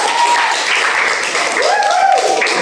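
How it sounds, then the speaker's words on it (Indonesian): A classroom of students claps for a classmate, a short dense burst of applause close by with voices audible through it. "Tepuk tangan untuk Zahro."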